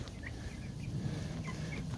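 Young chicks in a mobile chicken tractor on a farm, a flock of 53, give soft clucks and faint peeps over a steady low rumble of background noise, with no talking.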